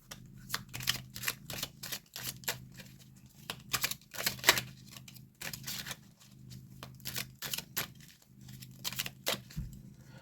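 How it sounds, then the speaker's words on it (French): Playing cards handled and shuffled for a fortune-telling draw, a run of quick papery riffles and snaps in bursts, close and fairly quiet, with no talk. "On prend 2 cartes de jeu."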